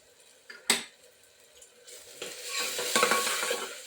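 Spices sautéing in oil for a Marathi-style bean curry with red chilli powder, salt and garam masala, starting with a sharp clatter of utensil on pan, then building into a steady close sizzle with scraping stirs.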